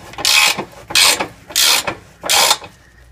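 Tool turning a rusted exhaust stud on a Toyota, heard as four close, loud, evenly spaced grinding ratchet bursts of about half a second each, with short pauses between them.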